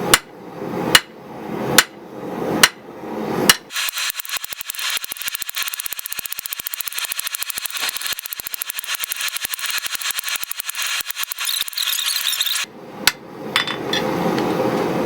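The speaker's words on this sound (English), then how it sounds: "So just keep forging it down." A hammer forges hot steel on an anvil, starting with four heavy separate blows, then a long fast run of rapid ringing strikes, then a few more spaced hits near the end, loud and close.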